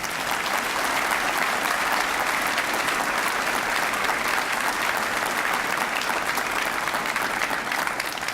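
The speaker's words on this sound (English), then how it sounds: "Give all of them a huge round of applause" Sustained audience applause at the opening of Hawks Hall, a newly built facility, steady and dense for the full stretch with no pauses, a large crowd clapping together at even loudness.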